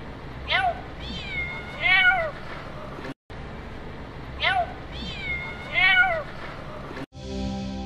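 A cat answers a greeting at a football training ground with clear, close meows. Two short meows are followed by a longer one, then the same pattern repeats after a brief break, over a soft background hum.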